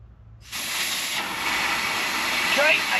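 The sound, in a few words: compressed air hissing from a compressor hose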